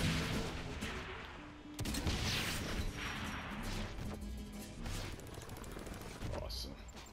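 Grenade or rocket launcher fire in the video game Saints Row 4, heavy booming blasts and crashing impacts in a dense, continuous barrage, loud and close, with voices talking over the chaos.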